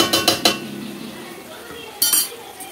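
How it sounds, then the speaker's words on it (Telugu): A metal spoon clinks and scrapes against a pot while curd is stirred into a chicken or mutton curry, a few quick clatters at the start and another short burst near the end, with quieter stirring between. "పెరుగు వేసుకొని బాగా కలుపుకుందాము"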